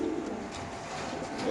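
Racer pigeons at a market stall coo softly in a brief, steady murmur, with low throaty calls rising near the end and no talk.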